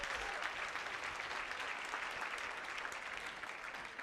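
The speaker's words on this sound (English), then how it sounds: "Can we clap it out for Hannah, who spoke to us earlier?" Keynote audience at a conference applauding steadily, a dense wash of clapping hands that holds at an even level for several seconds with no speech over it.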